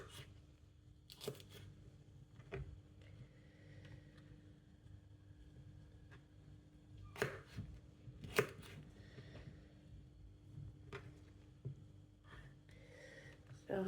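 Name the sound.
chopping food for sausage casserole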